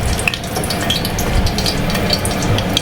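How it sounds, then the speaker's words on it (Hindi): Dal being tempered in a generous amount of hot oil with a bay leaf, a continuous sizzle and crackle that stays loud and even throughout, close by with no talking. "तड़का लगा रही हूँ, हाँ तेज पत्ता दूँगी दाल पे"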